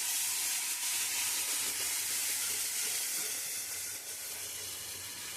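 Onion paste sizzles in a frying pan while cooking pointed gourd and prawns in yogurt, giving a steady, moderately faint, continuous hiss with no talking.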